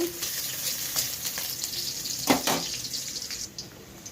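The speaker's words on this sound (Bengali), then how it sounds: "পেঁয়াজ ভেজে নিচ্ছি।" Onions frying in a pan for a spicy soybean dish, a steady soft sizzle with occasional stirring scrapes and a brief louder clatter midway, heard alone without voices.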